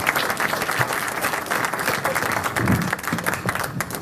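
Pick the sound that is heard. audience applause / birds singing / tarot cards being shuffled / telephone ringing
audience applause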